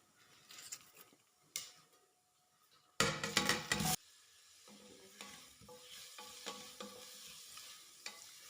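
Two large chopped onions drop into hot oil for a duck curry, bursting into a loud, close sizzle for about a second before settling into quieter frying with scattered stirring clinks and scrapes.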